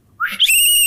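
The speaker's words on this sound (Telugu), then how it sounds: "విజిల్ కొట్టండి." A person whistles, starting with a rising breathy sweep into a sustained, loud, steady shrill tone that holds to the end, alone with no talk.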